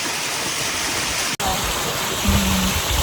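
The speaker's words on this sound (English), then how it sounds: "this waterfall, they call it Devil's Waterfall" Devil's Waterfall pours in a steady, loud, broadband roar that fills the whole stretch without pause apart from one abrupt instant break, with no voices.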